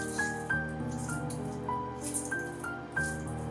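Water drips and squishes as fresh homemade mozzarella curd is squeezed by hand, with a handful of small separate drips falling over a faint, steady background hum.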